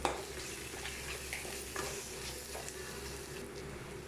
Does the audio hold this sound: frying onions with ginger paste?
yes